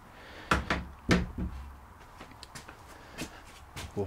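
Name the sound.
door of a garden dry toilet opening and closing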